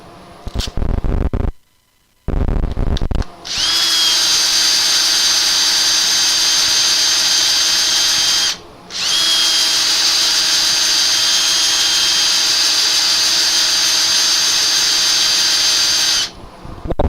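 A wood lathe spins a lacquered turning while it is sanded, giving a steady high-pitched motor whine that cuts out briefly and restarts twice, close and loud, with no talk.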